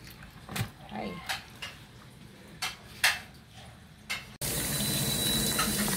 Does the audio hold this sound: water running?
yes